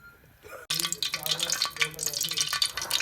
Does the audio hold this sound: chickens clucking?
no